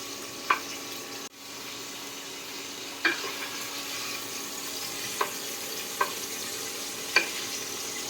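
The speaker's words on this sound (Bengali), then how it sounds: "চিকেন একটু ভাজা হয়ে গেছে।" Chicken pieces frying in hot oil in a pan for a chicken masala Maggi, a quiet steady sizzle broken by a few sharp taps of a spatula against the pan.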